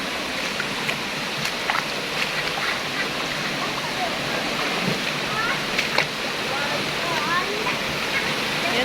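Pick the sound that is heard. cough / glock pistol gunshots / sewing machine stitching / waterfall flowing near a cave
waterfall flowing near a cave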